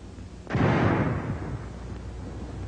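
A frangible hand grenade with FS smoke filler bursts in one sudden loud blast that rolls into a long fading rumble.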